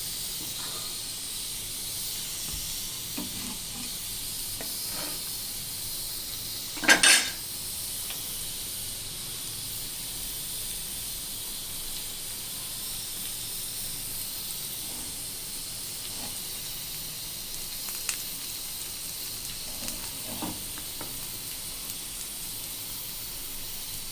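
Ridge gourd chops fry in oil over a low flame, giving a steady, quiet hiss that runs throughout, broken by a single louder crackle and a few faint pops, with no one speaking.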